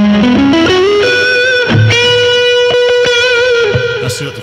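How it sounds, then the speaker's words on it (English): Electric guitar played through an AZOR delay pedal: a loud run of picked notes steps up quickly, then sustained chords ring with repeating echoes trailing behind, alone without talk. "Let's turn this delay back on."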